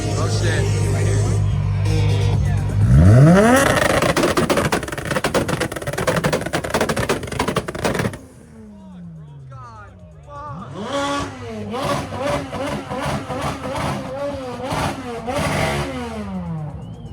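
A Toyota Supra revs hard at a loud car meet, its engine sweeping up in sharp rising bursts, then a quieter gap before a string of rapid rev blips close by, with excited voices shouting over it.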